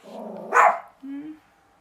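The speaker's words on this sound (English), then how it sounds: "Sorry, my dogs." Dogs bark in a short burst, a loud sharp yap followed by a shorter tonal yelp, close by with a voice speaking just before.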